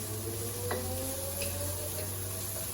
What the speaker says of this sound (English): adding the vegetables one by one, stirring and frying them